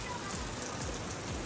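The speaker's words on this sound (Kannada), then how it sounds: "ಮಳೆ ಬಂದ್ಬಿಡ್ತು ನೋಡಿ" Steady rain falls on a street in Vietnam, a dense continuous hiss of drops on surfaces without pause through the short stretch.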